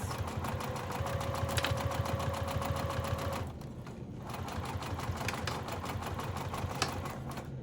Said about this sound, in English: I'm just kind of back stitching at the curves to help reinforce